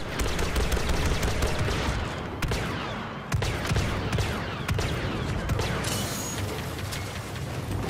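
Rapid, continuous blaster fire from Star Wars Battlefront II gameplay, dense bursts of shots with sharp impacts and booms filling the whole stretch, loud and close.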